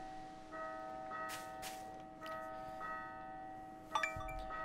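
A bell rings in the video game Lost Sphear, a sustained tonal church-bell-like chime held steady and fairly quiet over soft background noise.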